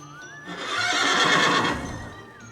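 A horse on a farm lets out one loud, drawn-out whinny up close, rising and then trailing off over a couple of seconds.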